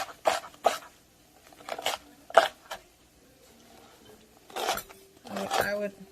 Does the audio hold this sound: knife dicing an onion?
yes